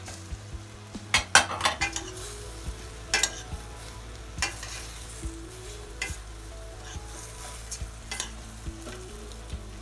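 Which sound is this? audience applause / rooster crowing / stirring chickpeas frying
stirring chickpeas frying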